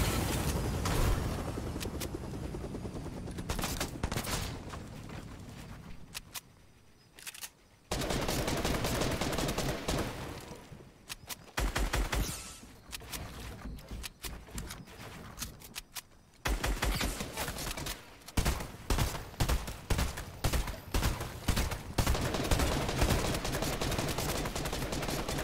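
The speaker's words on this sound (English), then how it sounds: "Why are they just shooting ARs, bro?" Assault rifle gunfire in Fortnite, with dense rapid bursts and volleys that come in loud stretches and break off in short gaps, growing into quick repeated shots toward the end.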